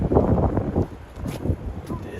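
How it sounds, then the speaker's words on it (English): Gusty wind buffets the microphone in low rumbling bursts, with a few brief voices speaking faintly underneath. "I think it's more windy in the park."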